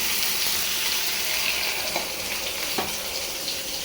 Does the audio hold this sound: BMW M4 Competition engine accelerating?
no